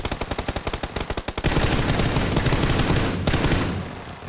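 M4 rifle in the video game PUBG, a rapid burst of about fifteen loud, close shots at a fast steady rhythm, then a dense continuous roar of heavier firing with a sharp blast near the end.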